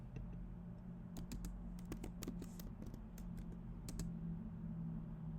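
Quiet, irregular key clatter on a computer keyboard while web code is written, with short bursts of taps over a low steady hum.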